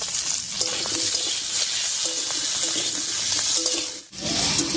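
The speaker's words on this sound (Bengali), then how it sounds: "ফোড়নের উপরে আলুটা দিয়ে একটু নাড়িয়ে নিয়েছি" Boiled potatoes being stirred into hot spice tempering in a pan for a light fish curry, a steady sizzle with repeated scraping stir strokes, close and fairly loud, alone without talk.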